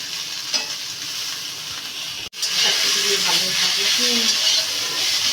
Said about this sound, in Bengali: বড়িগুলো এখন বেগুনের সঙ্গে ভেজে নিতে হবে